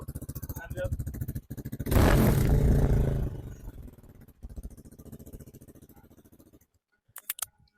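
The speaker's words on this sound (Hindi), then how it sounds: "आपको एग्जॉस्ट नोट भी सुना दिया" A modified KTM Duke 390 motorcycle putters with a loud, rapid-firing aftermarket exhaust, surging into a harsh rev before dropping back to a throbbing idle and cutting off.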